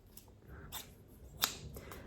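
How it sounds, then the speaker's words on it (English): Kitchen scissors make a few quiet, crisp snips and clicks in a near-silent room, with one sharper cut standing out among the soft strokes. "Another kitchen item are these kitchen scissors."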